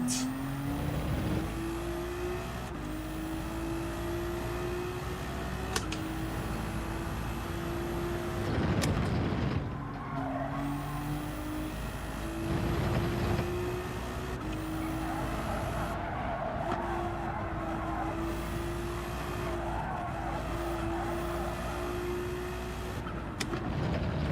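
A Ferrari race car in the racing game Gran Turismo 7 revs and drones close by, its engine pitch climbing through gears and dropping at each shift, with tire squeal and skids through corners.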